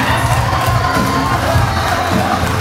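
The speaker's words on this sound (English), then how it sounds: "Round of applause, ladies and gentlemen" A dense, loud roar from a crowd at a Fiji oral health workers' association event, with cheering, whoops and shouting filling the room continuously.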